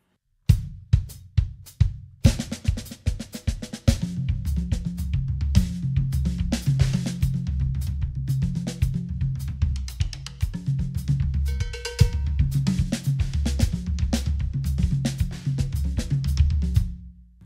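Drum kit played with single strokes moved around different drums and a cowbell, loud rapid hits in a steady driving pattern, sparse opening strokes building into a busy continuous groove with no talking.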